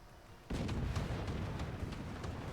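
Cannons fire aboard ships in the video game Fortships, a rapid volley of booming shots starting suddenly and repeating every few tenths of a second over a dense, loud rumble.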